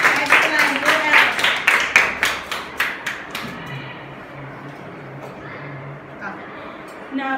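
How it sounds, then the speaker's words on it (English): Fifth-grade pupils in an English language lab classroom clap together in a run of sharp, rhythmic claps that slow and fade to scattered taps, with some voices talking around them. "Clap for him."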